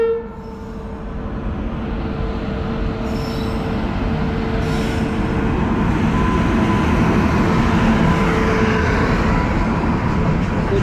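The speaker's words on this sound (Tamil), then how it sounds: "ஸோ ட்ரெயின் ஒன்று வந்துட்டுருக்குங்க ஆப்போசிட்டில்." A train rumbles steadily past on the opposite track at close range, heard from aboard a train, wheels squealing on the rails and a brief horn sounding partway through, growing louder toward the end.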